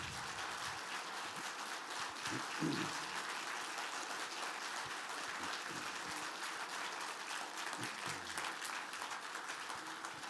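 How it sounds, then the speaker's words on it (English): Soft, distant audience applause, a continuous patter of many hands that stays even throughout, with a few faint voices and murmurs mixed in. "Please give these guys a round of applause."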